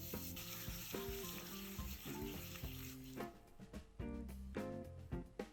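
Sugar, vanilla sugar and a pinch of salt are whisked into melted butter in a bowl, making quiet, close, rhythmic scraping and swishing strokes, with no voices.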